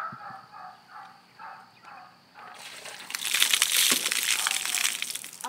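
Ice water dumped from a bucket over someone during an ice bucket challenge, a sudden loud splashing crash that starts midway and continues as a sustained drenching wash after a quieter opening.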